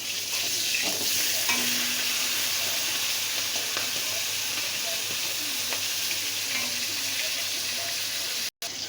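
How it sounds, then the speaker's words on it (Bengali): Fish heads fry in hot oil, a dense continuous sizzle up close with scraping stirs and a few clunks as the pieces are flipped, then a brief cut near the end. "মাছের মাথাটা এক পিঠ আমার ভাজা হয়ে গেছে। তো আমি এখন এটা উল্টে দেব।"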